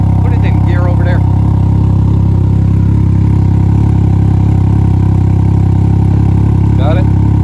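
A Can-Am Ryker with a modified exhaust idles loud and steady with a deep, even engine rumble, while people talk briefly over it.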